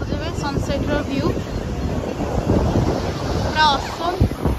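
Ocean waves and wind at Marina Beach in Chennai at sunset, a steady broadband wash of surf with wind buffeting the microphone throughout, and faint voices in the background.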